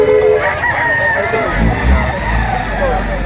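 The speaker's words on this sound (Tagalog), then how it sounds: "Gandang manok nito." A rooster crows amid a busy outdoor crowd at a rooster sale, with people chattering and some low rumbling nearby.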